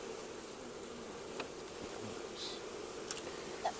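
Honey bees hum softly and continuously around an opened hive during an inspection, a faint, even buzz with a few small clicks and rustles.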